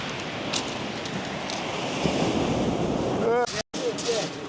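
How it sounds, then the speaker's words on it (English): Ocean waves surge and wash up on a fishing shore, a steady roaring hiss with wind buffeting the microphone, followed near the end by a brief jangle and a sudden dropout. "The wave nearly come over the top then."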